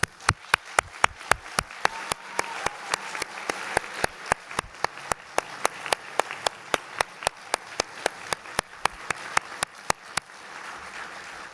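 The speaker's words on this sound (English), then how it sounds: "Please give them a huge and rousing round of applause" Graduation ceremony audience at Aston University giving a long round of applause, a broad wash of many hands under one sharp, evenly paced clapper close by, fading slightly toward the end.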